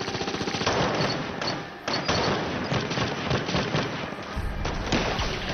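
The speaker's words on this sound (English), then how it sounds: "I know this ain't no bullets hitting the fence" Rapid gunfire in a zombie TV drama battle scene, dense bursts of shots and impacts rattling continuously for several seconds without pause, loud and close.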